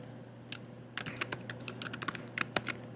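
Rapid computer keyboard typing while HTML header code is entered in Aptana Studio, with irregular bursts of clicky keystrokes over a steady low hum, close and moderately loud.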